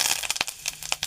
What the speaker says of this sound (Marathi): कढीपत्ता चांगला कडकडला का